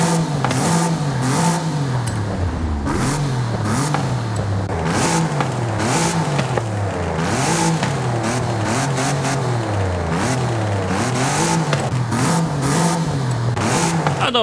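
An Audi RS5 Coupe with a 2.9 V6 revs hard and continuously, the engine note sweeping up and down through repeated climbing pulls and gear shifts, loud and close, with no voices.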